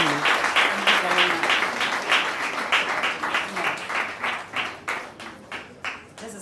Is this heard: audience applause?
yes